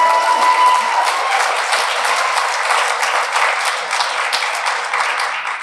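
An indoor business awards audience applauds a tribal group's leader, a loud sustained wash of clapping from many hands that holds steady and tapers slightly at the end.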